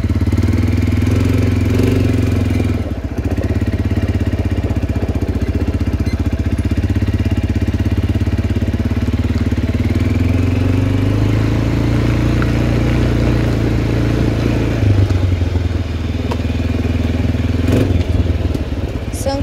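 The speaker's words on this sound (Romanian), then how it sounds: "Să încălzim un pic motorul." An ATV's engine idles while warming up, a loud, steady, rumbling putter that holds close and even for the whole stretch with only slight changes in pitch.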